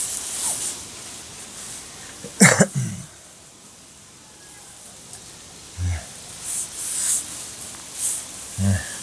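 A person coughs a couple of times in quick succession before starting to dig. The coughs are sharp and close in an otherwise quiet space, followed by sparse faint thumps and rustling.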